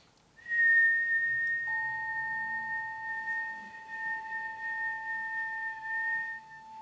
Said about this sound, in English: the sound of my whistling in the microphone